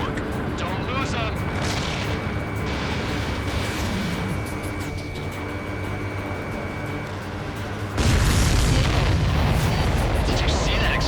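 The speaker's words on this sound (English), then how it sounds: "Did you see that explosion?" A large explosion in the aerial combat video game Ace Combat 7, a dense sustained rumble that surges louder partway through, mixed with game sound and radio chatter over it.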